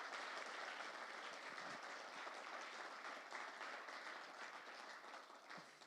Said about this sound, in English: give a big round of applause to all the speakers who've spoken over the last 3 days